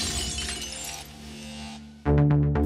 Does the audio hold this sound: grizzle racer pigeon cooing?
no